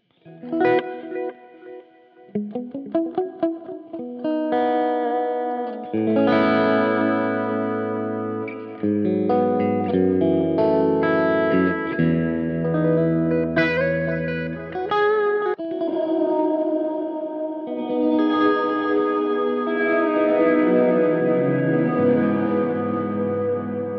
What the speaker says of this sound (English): So that's sort of reverb running into the delay.